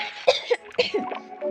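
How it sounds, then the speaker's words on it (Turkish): Several sharp coughs from a person in quick succession, close and loud, with brief pauses between bursts over a second and a half. "çok öksürdüm pardon."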